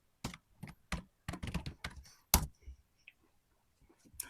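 Someone types a domain name on a computer keyboard while setting up an Nmap script scan, producing several close, crisp keystrokes in short bursts separated by brief pauses.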